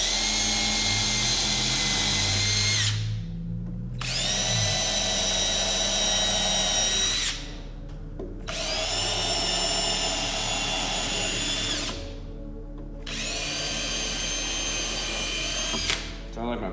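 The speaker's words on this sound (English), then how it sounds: "We can make our pre-drilled holes in here." A battery drill bores pre-drilled holes into a small wooden tool box, four loud whining bursts of several seconds each separated by short pauses, up close with no talk during the drilling.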